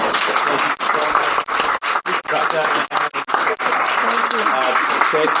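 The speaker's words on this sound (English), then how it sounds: "Let's give it a round of applause to our panel." Applause from a panel event audience, a dense steady wash of clapping broken by several brief dips, with voices mixed in throughout.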